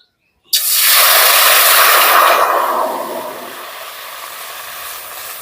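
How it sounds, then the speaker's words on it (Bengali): About 700 grams of water is poured into a hot kadai for a raw mango preserve, starting with a sudden loud sizzling hiss that stays strong for two seconds, then settles into a softer steady bubbling hiss. "আমি একটা কড়াই বসিয়ে দিয়েছি আর তাতে দিয়ে দিচ্ছি সাতশো গ্রাম মতো জল"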